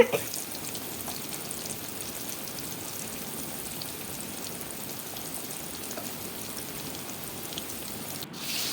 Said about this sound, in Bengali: বেগুন ভাজা হচ্ছে।